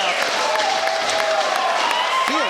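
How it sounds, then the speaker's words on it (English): Spectators at a bowls final applaud in a dense, steady roar of clapping, with a commentator's voice running faintly over the top. "Igniting the crowd."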